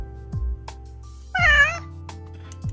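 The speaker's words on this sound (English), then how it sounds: "It's a very cute kitty, at least." A single cute cat meow from the game Apothekitty rings out clearly with a wavering, bending pitch, framed by soft low thumps and small interface clicks.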